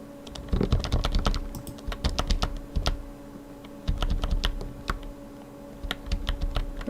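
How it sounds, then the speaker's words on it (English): Typing on a computer keyboard beside the microphone during a Blender shading live stream: quick bursts of close, crisp key clicks with short pauses, steady over a faint electrical hum. "I'm curious if you guys can hear my keyboard during my live streams."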